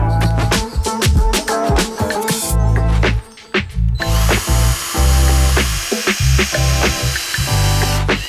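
A power drill drives screws to fasten upright wooden posts to the outer sides of a homemade coffee table, sounding in loud, close, repeated whirring bursts with short pauses between.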